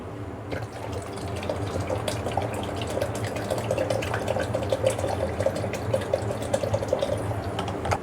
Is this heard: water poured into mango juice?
yes